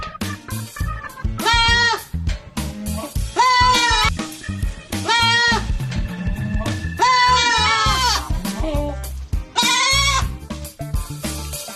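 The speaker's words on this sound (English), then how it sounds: "goat" A goat bleats loudly several times, wavering cries spaced a few seconds apart, close by with some background rustle.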